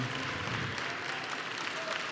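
A crowd applauds French Cancan dancers with a steady, dense wash of clapping at moderate distance, fairly faint and continuous.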